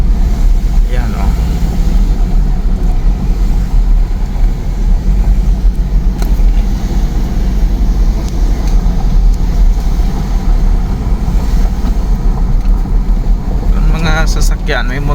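A car engine hums as a low, steady drone from inside the moving car, with road rumble beneath and people talking over it.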